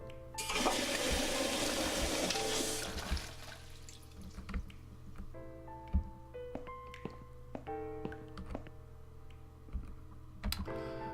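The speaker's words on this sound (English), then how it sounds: "Flush." Toilet flush in the horror adventure game The Cat Lady: a loud rushing gush of water for about three seconds. It fades into quiet dripping and small clicking game effects.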